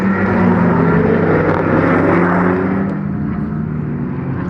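An Audi race car from the Saint-Éloc team, an R3-category entry in the ROSCAR 100 at the Magny-Cours circuit, roars past on track, with its loud engine note sustained and then easing slightly as it moves away.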